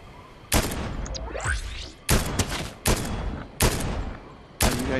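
Several sharp gunshot bursts from Fortnite weapons ring out in an irregular sequence, each loud crack followed by a short decaying tail, with no talking over them.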